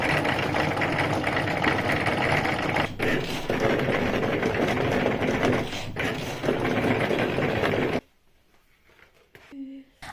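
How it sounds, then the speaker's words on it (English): A Cricut cutting machine cuts an iron-on glitter design with a steady, busy mechanical whir and buzz for several seconds. It stops abruptly, leaving near silence with a faint tone. "Now the machine itself has split the whole design into 4 sections, cutting it separately."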